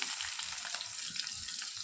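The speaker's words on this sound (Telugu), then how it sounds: "కరివేపాకు వేసి వేయించుకోవాలి తాలింపు బాగా వేగాలి" Steady, crackling sizzle of curry leaves frying in hot oil as tempering for broad bean rasam curry, close and continuous, with faint stirring and no voices.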